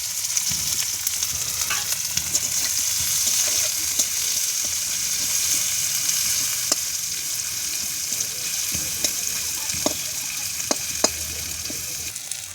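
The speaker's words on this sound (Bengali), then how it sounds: "পেঁয়াজগুলো ভাজা হয়ে গেছে" Onion and garlic fry in hot oil, a loud continuous sizzle broken by scattered scrapes and clicks of stirring, close and steady throughout with no talk.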